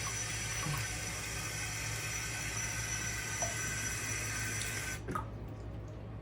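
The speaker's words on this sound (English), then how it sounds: "I'm gonna put a little water on it and go over it." Water runs steadily from a tap during shaving, a constant hissing stream that stops abruptly near the end, leaving a short faint splash.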